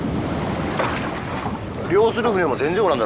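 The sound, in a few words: strong wind and waves at sea off Yobuko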